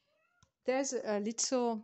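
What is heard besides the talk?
cat meowing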